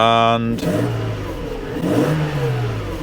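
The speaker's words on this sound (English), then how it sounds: "we've got a throttle response" A Mercedes W140 S-Class engine, recently started and idling after repairs, revs up under throttle and settles back, loud and close. Someone speaks briefly over it.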